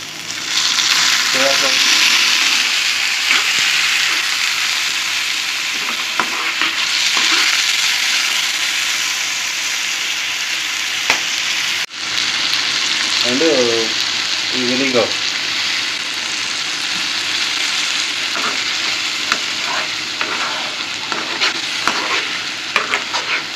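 Vegetable soft noodles fry in a pan while sauces are added, giving a loud, steady sizzle with repeated stirring scrapes and a short break midway; a voice is faintly heard briefly.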